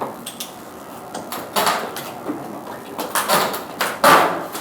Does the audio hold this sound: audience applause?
no